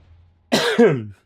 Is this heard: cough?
yes